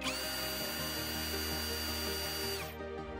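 A Parkside Performance PSBSAP 20-Li C3 cordless hammer drill runs at a steady high-pitched whine close up, then spins down and stops near the end.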